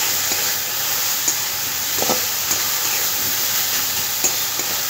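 Vegetables with ginger-garlic paste are stirred in a frying pan, giving a constant loud sizzle broken by a few scraping stirs and soft spatula knocks.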